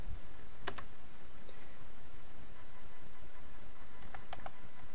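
Keyboard keys are tapped while code is typed on a computer, a few scattered clicks and short bursts standing out over a steady background hiss, with no talking.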